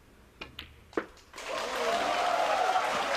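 A snooker crowd in Shanghai bursts into sustained applause and cheering after the winning shot, following a few sharp ball clicks; the clapping swells and holds loud and dense to the end.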